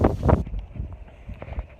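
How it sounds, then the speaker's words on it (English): Strong gusts of wind buffet the microphone outdoors among trees, a loud rumbling rush that peaks early and then settles into a steadier, fluttering blow. "Wow, is it windy?"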